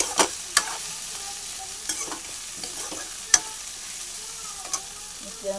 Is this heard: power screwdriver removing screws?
no